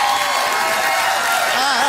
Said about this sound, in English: Getting a standing ovation.